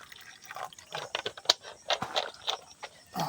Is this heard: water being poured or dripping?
yes